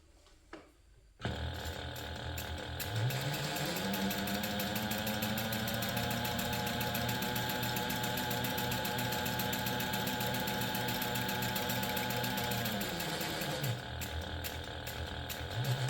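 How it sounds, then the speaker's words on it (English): A sewing machine runs steadily while top stitching along a handbag's top edge, a continuous mechanical whir with a rhythmic pawl-like clatter, starting after a brief quiet moment and holding for about twelve seconds before it stops. "now we're going to top stitch along the top edge only"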